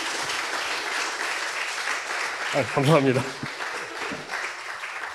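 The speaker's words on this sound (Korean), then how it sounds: "내키지 않더라도 박수 좀 쳐주세요" Audience applause at a Korean public broadcast event, a steady wash of many hands clapping that runs throughout, with a voice briefly speaking over it partway through.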